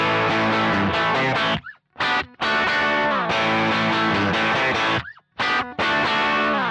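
A heavily distorted electric guitar plays loud, crunchy chords through a Milkman amp-in-a-box pedal, with brief pauses and sustained notes, thick with overdrive.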